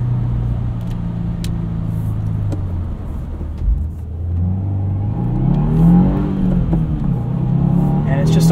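A 2022 Subaru WRX Premium with a 2.4 liter turbocharged engine and six-speed manual accelerates from inside the cabin, its loud, steady engine drone rising and falling in pitch through the gears, with a voice talking over it throughout.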